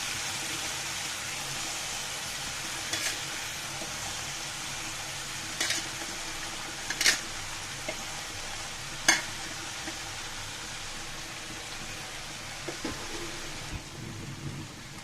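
Cabbage and red lentils fry together in a pan with a faint, steady sizzling hiss, broken by a few sharp clinks of stirring near the 3, 6, 7 and 9 second marks.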